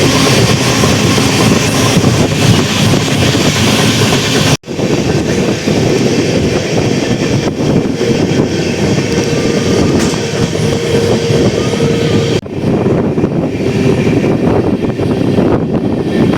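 A passenger train, the Tirupati Express between Chennai Central and Tirupati, rumbles steadily along the rails near Puliyamangalam station, loud and close, with a constant roar and faint clatter from the wheels.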